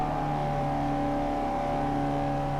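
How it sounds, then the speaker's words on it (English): Mazda MX-5 in Forza Motorsport 4 holds a steady, droning engine note while climbing a hill, with a sustained hum that stays loud and unbroken, no talking. "And then chug up the hill."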